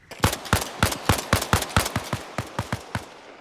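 Rapid gunfire in the Arma Reforger military game: about a dozen sharp, loud shots in a steady, evenly spaced rhythm, each with a short echoing tail, with no voices.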